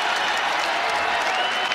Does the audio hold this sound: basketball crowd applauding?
yes